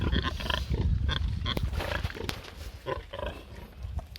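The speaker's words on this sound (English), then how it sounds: "look what I found. Iberico pigs." Iberian pigs grunt outdoors in Spain, a rough cluster of low snorting grunts close by with rustling and ambient noise, no voices.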